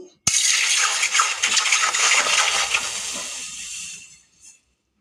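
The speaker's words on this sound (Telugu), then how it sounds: "పాలైతే గిన్నెలో పోసేసుకోవాలి" Thick undiluted milk poured from a cup into a cooking pot makes a sustained splashing, gurgling stream that starts abruptly, runs close and fairly loud for several seconds, then tapers off with a final small drip.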